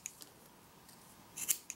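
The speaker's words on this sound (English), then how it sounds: "These scissors cut better than the scissors on some of my like more expensive multi-tools." Small fold-out scissors on a budget multi-tool snipping through material, a few sharp, close metallic cuts with a quiet pause between the first and final snips.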